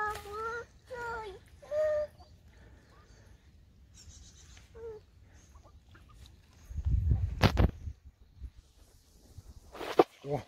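Ducks on a lake give a few short, nasal calls early on, followed by scattered splashes and rustling, with people talking quietly nearby.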